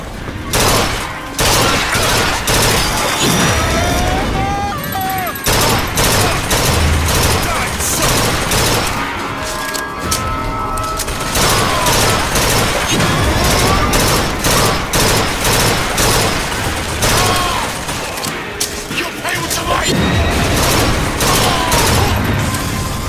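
Dense gunfire and fusillade bursts from a weapon in BioShock Infinite, repeated volleys across the whole stretch mixed with game effects and occasional voices.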